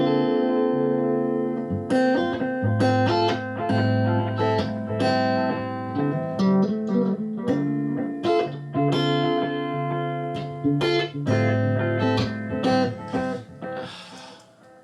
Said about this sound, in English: it'll start kind of warbling and breaking down a little bit towards the end of the loop